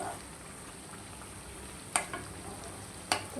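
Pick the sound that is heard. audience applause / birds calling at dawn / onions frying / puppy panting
onions frying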